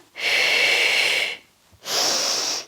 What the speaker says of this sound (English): Inhale, exhale, inhale, last one.